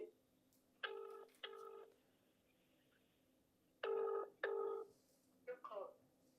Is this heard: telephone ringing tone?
yes